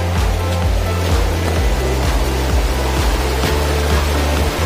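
Floodwater rushes loudly and continuously through overflowing drains, streams and rivers after heavy rain, a dense roar close by with no talk.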